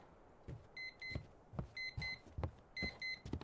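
An alarm sounds in the video game Static Dread: The Lighthouse, a faint repeating electronic beep in short pairs, interleaved with soft low thumps.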